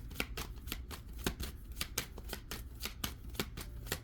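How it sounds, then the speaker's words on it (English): Tarot cards being shuffled by hand in a steady run of crisp riffling snaps, roughly three per second, close and clear with no talking. "Let me shuffle."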